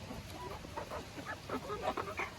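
Chicks and hens chirp and cluck at feeding time in a farmyard, with a steady run of short, overlapping peeps and calls at moderate loudness over faint background noise.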